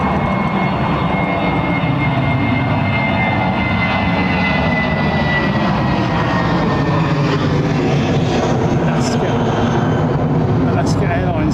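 Alaska Airlines Boeing 787 jet at London Heathrow Airport, a loud continuous roar of engines holding steady for many seconds with a slowly shifting pitch, voices also present.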